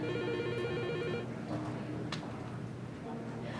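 Telephone bell ringing in a warbling trill at the start, then stopping while indoor background sound and a brief rustle continue, moderately close.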